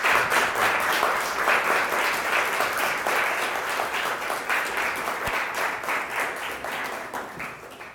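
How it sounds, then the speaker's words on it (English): A lecture audience at the School of Visual Arts breaks into a big round of applause, dense steady clapping close and loud that carries on for several seconds and eases only slightly toward the end. "Let's give her a big round of applause"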